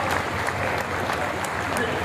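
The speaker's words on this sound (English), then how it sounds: "Can I request you to give a big round of applause for" Audience at the Amazing Goa Global Business Summit 2024 inauguration gives a steady round of applause, dense clapping filling a large hall throughout.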